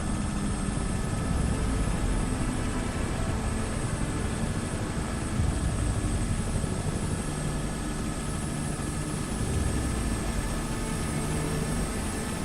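Steady, loud cabin drone of a Robinson R66 helicopter flying in a group over Vancouver Island, a continuous rotor and turbine roar with a high whine, unbroken and with no talk.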